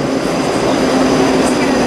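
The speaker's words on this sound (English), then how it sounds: "Here comes our train to Helfort." A train, unit 334007 bound for Helfort in Strathclyde, pulls into the station with a steady, loud, continuous rumble and rail hum that fills the whole moment.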